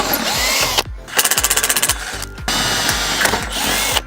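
A loud power drill whirs in short bursts, with a rapid rattling stretch as the screw drives in to fix a cable railing, then stops and restarts.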